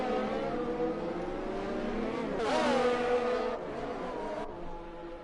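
F1 race car engines in F1 2020 whine steadily at high revs, with layered engine tones as cars battle for position and one car surges louder and closer before the sound settles back.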